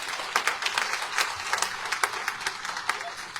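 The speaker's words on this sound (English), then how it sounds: "Let's give him a great big round of applause." Audience applause at an NAACP dinner, steady crisp clapping from a room of people with individual sharp claps standing out throughout.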